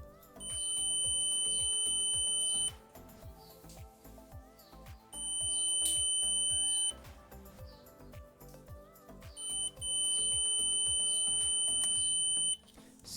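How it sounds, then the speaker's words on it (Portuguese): Three long, steady electronic beeps from a multimeter continuity test, each lasting about two seconds with short gaps between, over background music. "Vamos ajustar o multímetro para este símbolo de continuidade, que também ele emite um som."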